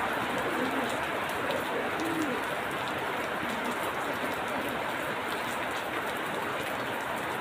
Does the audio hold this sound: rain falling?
yes